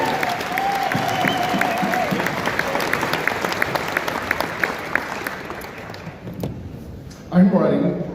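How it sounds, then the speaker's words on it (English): Applause at a Utah County political convention for the candidates' families, a loud sustained crowd clapping that fades out, followed by a speaker's voice starting. "we need to give an applause for all the candidates' families and wives"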